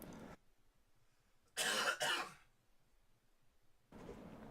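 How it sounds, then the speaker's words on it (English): A person coughs in a few separate fits: a short burst at the start, a harsher double cough in the middle, then another that begins just before the end, close and fairly quiet with faint room noise between. "I'm having a little bit of a coughing fit here too."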